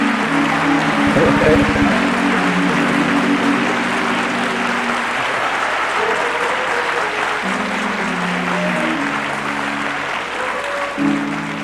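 Sustained applause from a crowd at a university student-honoring event, steady and fairly loud throughout, greeting the speaker's wife, with faint talk from a man underneath.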